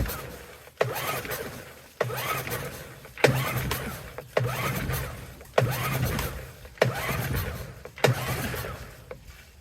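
A 2006 Mercury 15 HP outboard motor with the choke pulled on is cranked by its pull cord about eight times in a steady rhythm. Each pull brings a short sputtering burst that fades without the engine catching.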